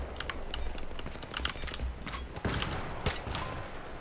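Gunfire in Battlefield 3 from an M16A3 rifle fitted with a suppressor, heard as quick, fairly quiet runs of sharp clicking shots in bursts over low background game noise.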